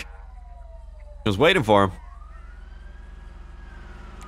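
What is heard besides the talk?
siren of approaching fire truck or police car, from a video game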